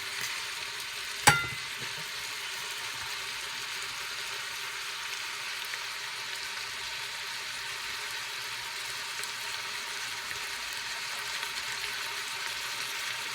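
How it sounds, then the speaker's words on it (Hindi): Chopped onions frying for a base gravy, a steady close sizzle in the pan with a single sharp clink of a utensil early on, then continuous quiet frying. "और वापस उसको हम हिला देते हैं और मिक्स कर देते हैं ऑनियन के साथ में"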